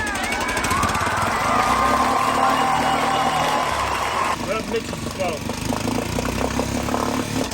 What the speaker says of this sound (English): We have a working engine.